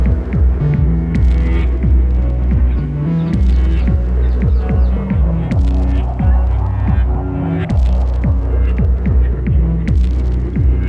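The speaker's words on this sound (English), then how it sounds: "on one of my two favorite drum machines ever, the Elektron Analog RYTM, is muting and unmuting some patterns that I prepared earlier" An Elektron Analog Rytm drum machine plays a steady, loud pulsing pattern of deep kick-like thumps with sharper percussive hits, parts dropping out and returning as patterns are muted and unmuted; no talking.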